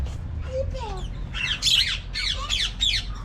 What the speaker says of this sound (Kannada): ಅಲ್ಲಿ ಬರ್ಡ್ಸ್.